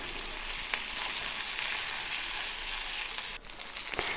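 Chopped onions and green chillies fry in mustard oil with a constant close sizzle, a brief dip and a stir or two near the end, no talking.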